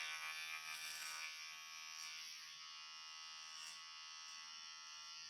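An electric hair clipper fitted with a comb guard trims a beard, giving a steady high-pitched buzz that runs on without a break at a fairly quiet, even level.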